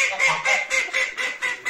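Ducks and geese inside a chicken coop give loud, close, continuous honking and quacking, with calls pulsing in a quick repeated rhythm.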